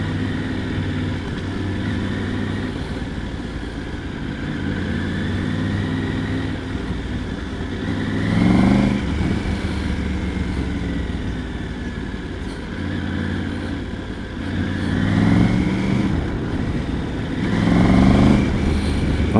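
A Triumph Tiger 900 GT Pro motorcycle cruises with a steady engine drone, and its pitch swells and drops several times as the rider shifts gears, with rushing wind noise throughout.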